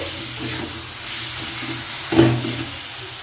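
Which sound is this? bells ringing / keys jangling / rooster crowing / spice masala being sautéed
spice masala being sautéed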